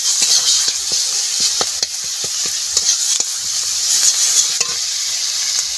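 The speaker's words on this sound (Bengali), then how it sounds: "একটুখানি পেঁয়াজটা কষিয়ে নেব।" Onion sautéing in a pan over a wood-fired stove: a steady bright sizzle runs throughout, broken by repeated sharp scrapes and knocks of a spatula stirring, close and loud, with no talking.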